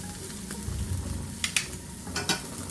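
Beer brats sizzling on a griddle as they brown, a steady soft frying hiss with a few sharper pops and spatters, fairly quiet and close with no voices.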